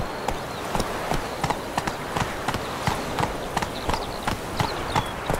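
In The Witcher 3, Roach the horse trots with rhythmic, regularly spaced hoof clops on firm ground, moderately loud against a soft ambient background and without voices.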